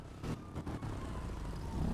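Motorcycles passing along a street in Kedah, Malaysia, a steady engine drone that swells slightly toward the end, fairly near, with no talk over it.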